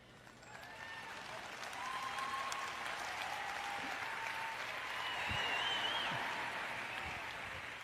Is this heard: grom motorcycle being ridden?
no